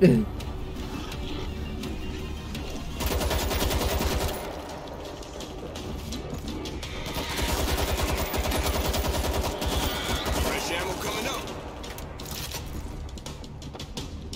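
World War Z zombie battle: sustained distant rattling gunfire runs steadily beneath a player chatting over it, swelling and fading in volume throughout.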